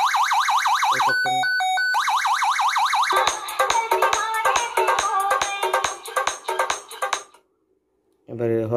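A four-bend pressure horn playing a programmed music tone: loud warbling sweeps, then a fast run of pulsed electronic notes that cuts off, followed by a short restart.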